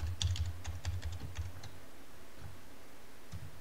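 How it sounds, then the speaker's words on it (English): A password is typed quickly on a computer keyboard, a dense run of close key taps over a steady low background hum, tapering off and ending with one last tap. "And we'll type in the password here."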